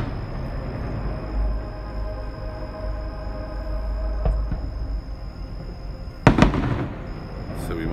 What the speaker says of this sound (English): and well, here come more fireworks.